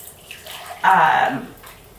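Panna cotta mixture poured from a two-cup measuring cup into a container, a short close liquid pour lasting about half a second amid quiet kitchen sounds.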